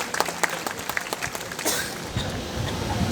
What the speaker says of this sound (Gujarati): એમને જોરદાર તાળીઓથી વધાવી લઈએ